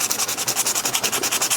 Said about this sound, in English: The reason why I want to use a little sandpaper on the sample is to roughen up the surface.